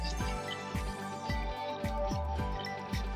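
A whisk stirs flour and water in a pot on a hot stove for pot roast gravy, scraping and knocking in steady, regular strokes about twice a second.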